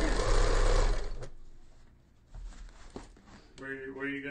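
A home sewing machine runs briefly while stitching a back tack on an awning window treatment, whirring loudly at the start, then stopping for quiet handling sounds before a voice speaks near the end.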